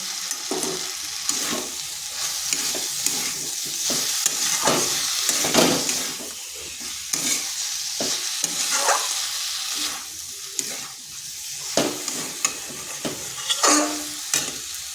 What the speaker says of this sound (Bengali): এটাকে আর কিছুক্ষণ এভাবে কষে নিচ্ছি